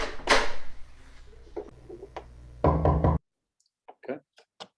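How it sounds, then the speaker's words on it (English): Knocking sound effect played back in a spring 2021 DMS121 lecture exercise, a burst of loud raps followed by a short run of quieter, sparser knocks after a sudden cutoff. "we should get that sound of this like knocking"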